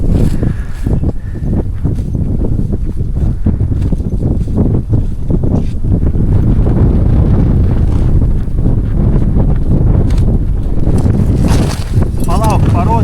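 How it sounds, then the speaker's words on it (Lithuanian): Strong wind on the Hardangervidda plateau buffets the microphone in a loud, steady roar with rough gusty rumble throughout, and nothing else stands out. "tik vėjas gan nemažas"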